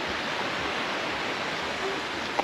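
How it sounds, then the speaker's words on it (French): Small cascading waterfalls beside a path in the medieval village of Saint-Montan, a steady broadband rush of falling water that stays constant and moderately close, with a brief knock near the end. "c'est sympa avec toutes ces petites cascades"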